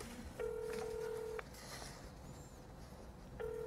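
A telephone call tone plays before a speed quiz: a faint, steady beep lasting about a second, a pause of roughly two seconds, then the beep starts again over quiet room noise.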